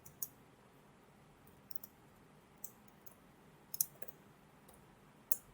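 Typing on a computer keyboard: a handful of faint, sparse keystroke clicks spaced irregularly over a quiet background, with no talking.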